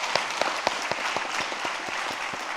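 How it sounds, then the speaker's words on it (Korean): A church congregation claps in encouragement for children's Sunday school award winners during an afternoon worship service. The clapping is faint and fairly sparse, with distinct individual claps in a loose, steady rhythm. "우리 교회학교 어린이대 수상한 모든 친구들 다시 한번 격려 박수 부탁드리겠습니다."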